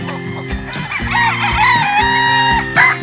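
A Gray Gilmore cross gamecock crows nearby, loud and tonal with a drawn-out call. Clucking and other fowl calls from a farm flock are layered around it.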